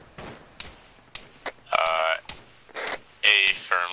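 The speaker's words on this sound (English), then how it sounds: "We're on the other side of the tracks right now, taking small arms fire." Small arms fire in a tactical military game operation near railway tracks, several sharp bursts of gunshots, some loud and close, mixed with voices talking over radio.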